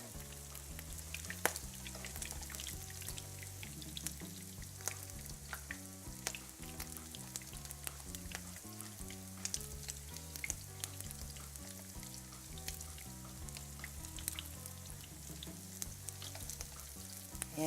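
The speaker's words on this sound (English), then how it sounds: "And we'll let them cook for a couple of minutes on the other side." Shrimp cakes fry steadily in a pan, a dense continuous sizzle with scattered pops and crackles running the whole time, fairly close and with no talking.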